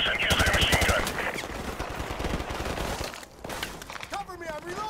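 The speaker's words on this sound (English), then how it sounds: "Jackson, use their machine gun." Machine gun fire in Call of Duty: Modern Warfare Remastered, a loud, rapid rattling burst of shots that fades into scattered gunfire, with shouted voices over the combat.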